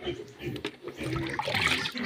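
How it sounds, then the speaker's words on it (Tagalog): Water being poured for pigs to drink at a pig pen, a splashing, running pour mixed with background noise, fairly close and continuous. "kaya bigyan natin sila konti ng tubig"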